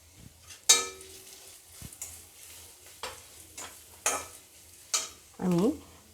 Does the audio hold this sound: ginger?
yes